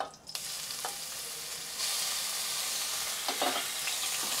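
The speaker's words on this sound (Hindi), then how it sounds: "थोड़ा सा चला लेते अदरक और हरी मिर्च को" Crushed ginger and green chilies fry in hot oil with cumin seeds, a steady close sizzle that jumps louder partway through, with a few brief stirring scrapes and no talking.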